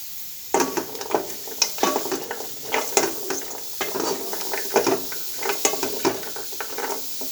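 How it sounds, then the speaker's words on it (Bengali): Cashew nuts sizzle in a hot pan while a spoon scrapes and stirs them in an irregular rhythm, close and steady. "সবগুলো কাজু বাদাম দিয়ে নেড়ে চেড়ে ভাজি করে নিতে হবে"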